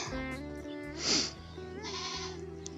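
Several goats bleat in wavering, nasal cries, one after another, fairly close, with a sharper call rising briefly in the middle.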